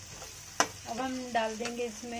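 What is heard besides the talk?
onions and tomatoes sizzling while roasting in a pan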